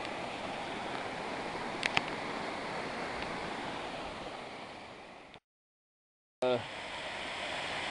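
Steady broadband rush of a waterfall reached at the end of a hike along mossy streams, loud and continuous, cutting out briefly before resuming.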